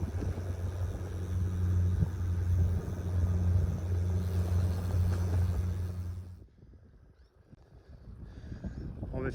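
Car driving along a road between Mocoa and San Agustin, a steady low rumble of engine and tyres with wind noise that drops away briefly near the end before returning.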